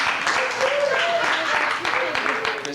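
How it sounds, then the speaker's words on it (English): An audience at a comedy camp applauds a young performer with a steady patter of many hands clapping at moderate volume. A voice speaks briefly over it. "Christina, give her a round of applause."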